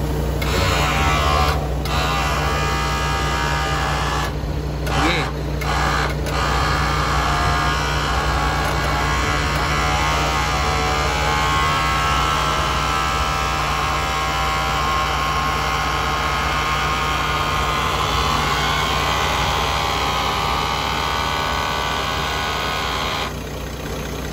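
An Isuzu Giga Max 10-wheeler wing van's engine runs at a steady idle, a constant loud mechanical hum with a few short breaks in the higher hiss, close by and without talk.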